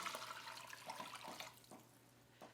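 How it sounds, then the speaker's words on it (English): Warm broth pours from a container into a pot of corn and poblano chowder, a soft steady splashing stream that gradually thins out, with a few faint drips near the end. "Pour the broth in."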